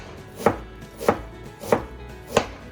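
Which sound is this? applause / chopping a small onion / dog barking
chopping a small onion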